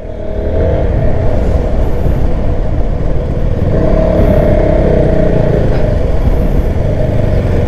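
A Keeway K300 N motorcycle exhaust rumbles continuously and loudly during a ride, a steady low engine drone with faint wind noise.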